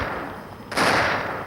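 A Desert Eagle pistol fires once in the Roblox game Deagle Arena, a single loud, close blast that rings out over a low game background.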